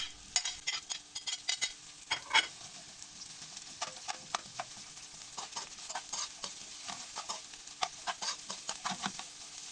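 Onions sautéing in a little oil for a meatball-and-mushroom dish, a continuous crackling sizzle with irregular clicks and taps of a utensil stirring in the pan.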